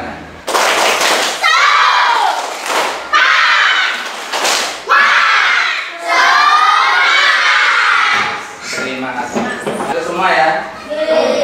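A fifth-grade class in an Indonesian school performs a spirit clap chant, loud children's voices shouting in bursts with sharp claps, repeated several times with brief pauses between rounds.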